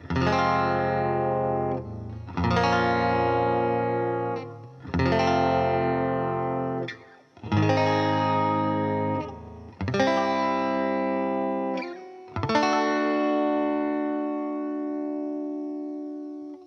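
Electric guitar chords with heavy effects, six sustained strums each ringing and decaying, the last one held longest, thick and reverberant.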